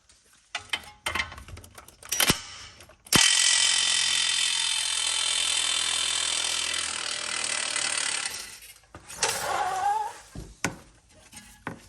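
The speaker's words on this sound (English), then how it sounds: "this should give me enough working room to take those bolts off, those 3" A ratchet works on bolts of a BMW E93 convertible, a long, loud, buzzing grind for several seconds, framed by sharp metallic clicks and clanks before and after.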